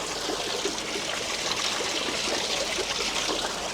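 Water from the Zhepa spring, fed from Mount Bureto, flows and trickles in a steady, close, broadband rush with no talking over it.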